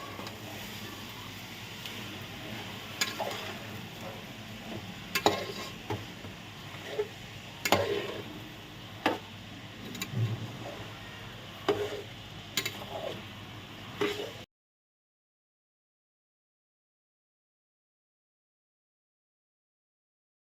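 Rice is fried in a pan and stirred with a spatula, giving quiet sizzling punctuated by irregular scraping clicks and knocks for about fourteen seconds before everything falls silent.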